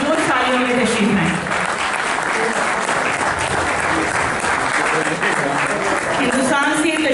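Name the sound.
audience applause at a poetry mushaira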